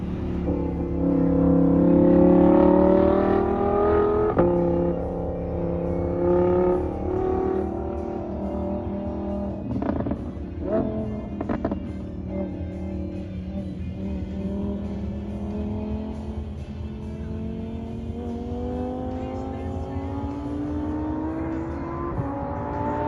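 Engine of a rear-wheel-drive Lamborghini Huracan at Las Vegas Motor Speedway, loud and close, with rising revs early, then a fluctuating idle with shifting pitch over a steady rumble.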